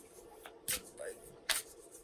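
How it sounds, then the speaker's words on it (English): Sacred Traveler oracle cards being shuffled by hand: two short, crisp riffling bursts close by, with quiet talk around them. "you may hear me shuffling the Sacred Traveler Oracle cards that I'm working with today"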